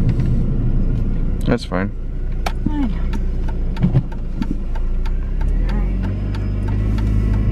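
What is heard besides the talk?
car accelerating, building speed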